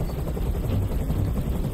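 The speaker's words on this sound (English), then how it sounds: "Tell that helicopter to get out of here." Helicopter rotor noise from the video game Detroit: Become Human, a steady, loud low throbbing drone filling the whole stretch with no pause.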